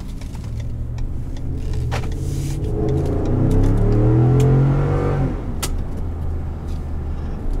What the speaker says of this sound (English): Put it into drive. Let's go for a drive.